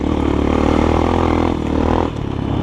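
A GEON X-Road 250 PRO motorcycle accelerating, its exhaust a loud close rumbling roar that holds steady and then dips briefly as the engine eases.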